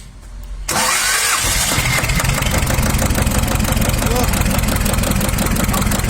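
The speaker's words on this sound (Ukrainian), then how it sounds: "ну зараз будемо пробувати заводити, вже все поставлено, зараз включимося" A T-16 tractor diesel engine with a newly replaced fuel pump cranks briefly, then catches and settles into a loud, steady rhythmic idle, close by.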